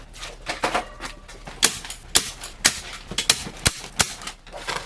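A hand stapler punches insulation onto a wall in a prop shop, giving a series of sharp, loud, close snaps at irregular intervals with brief pauses between them.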